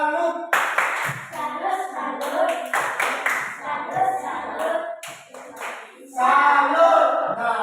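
Classroom pupils clap together in a 'tepuk salut' pattern, a series of brisk group claps broken by short pauses, with children's voices chanting alongside and a louder final burst.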